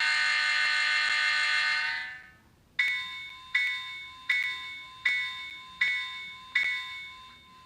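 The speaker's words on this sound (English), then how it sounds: "You can still sound the horn and stuff, so here's the horn." A vehicle horn sounds in a run of repeated short blasts, each a clear tonal burst that decays quickly, following a longer steady electronic tone that fades out.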